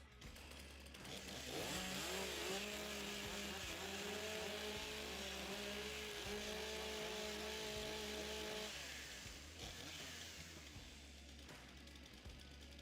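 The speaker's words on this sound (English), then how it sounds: "The MS661 professional saw. Warm up the saws." Several STIHL MS661 professional chainsaws run together at a timbersports championship, their engines revving and idling in a loud, continuous roar, with wavering pitch as throttles are blipped, before the sound drops away near the end.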